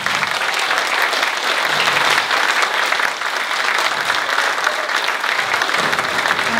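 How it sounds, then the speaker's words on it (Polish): Loud, sustained applause from a sizable audience after a Christmas Carol stage performance, many hands clapping in a continuous wash that stays strong throughout. "Ogromne brawa."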